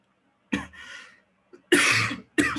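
Several harsh coughs in short bursts, close by, with brief pauses between them and no talking.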